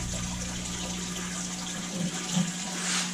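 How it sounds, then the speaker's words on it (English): A hose runs steadily into a tool box livewell, making a constant rushing, splashing fill that stays close and even for the whole stretch, with no voices over it. "it will fill it up right here, and you ain't got to hang on to the hose or anything like that while it fills up"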